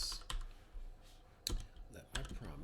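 Bursts of typing on a computer keyboard while writing code, a few quick clusters of clacking keys separated by short pauses, fairly quiet and close.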